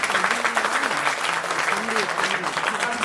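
An audience at a live fashion show and model hunt claps loudly together, a continuous dense patter of applause with cheering voices and whoops mixed in throughout.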